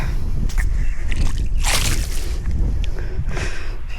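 Water sloshes and gurgles as it flows into a flooded rice paddy, with occasional splashes and squelching close by, steady and fairly loud.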